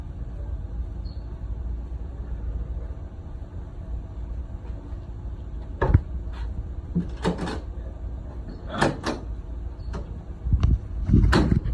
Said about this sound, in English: And this has always been a sticky door.